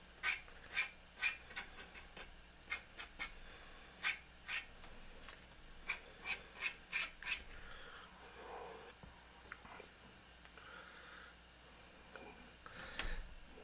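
A tool scratches fine lines into a copper sheet in quick, crisp strokes, loud at first and then tapering into softer scratching and light handling noises.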